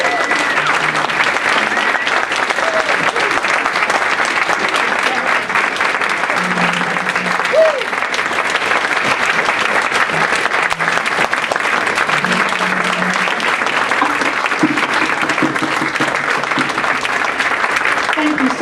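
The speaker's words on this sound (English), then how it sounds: "let's give Loretta another round of applause." Sustained applause from an awards-event audience, loud and steady for the whole stretch, with a dense clatter of many hands and faint voices murmuring underneath.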